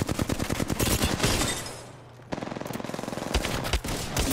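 Bursts of automatic gunfire in Apex Legends, loud and close, with a rapid volley, a brief lull, then another rattling burst of shots.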